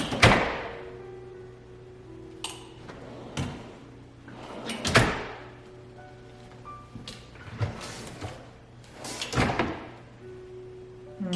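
Soft-close drawers full of items, pushed shut several times, each giving a muffled thump and brief rattle spaced a second or two apart, moderately loud in a quiet room.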